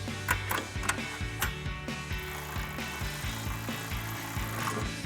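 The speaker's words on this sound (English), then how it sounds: "grab a 10mm socket and wrench and tighten that down" A 10mm socket wrench ratchets a lock nut tight while a cold air intake is installed on a Toyota Tacoma, giving a quiet, steady series of metallic clicks repeating in quick succession, close up with no talk.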